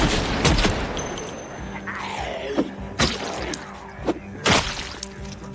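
Gunfire in the Project Zomboid video game, with several sharp, loud shots spaced about a second apart over a low background hum.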